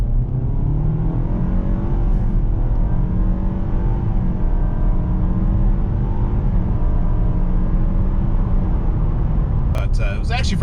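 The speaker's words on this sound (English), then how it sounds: "we're gonna do a quick little acceleration here" A 2020 Nissan Altima pulls away at full throttle on a flat road, heard from inside as a steady, smooth engine rumble with rising tones that build over several seconds, ending in a sharp click.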